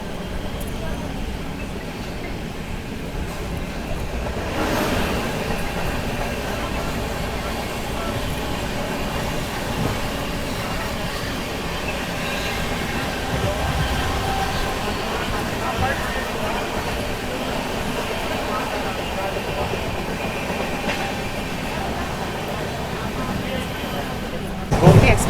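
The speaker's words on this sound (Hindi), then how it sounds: "Crossing with 12419 Lucknow NR new Delhi Gomti superfast express से।" An express train passes on a crossing track on Indian Railways, a continuous loud rushing rumble and rattle heard from inside a moving train for the full length, with a person talking over it.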